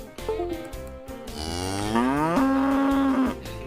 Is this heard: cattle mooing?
yes